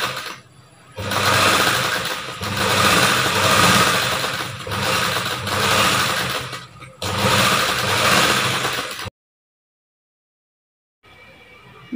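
Electric sewing machine stitching a simple blouse neck design, running in steady bursts with brief pauses, loud and close, then falling silent near the end before a faint return of sound.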